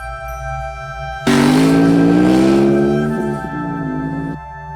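An 800X Rally motorcycle rides at speed across desert sand dunes and gobi, its engine suddenly surging into a loud, rising rev that holds and then eases off, heard up close over a steady background drone.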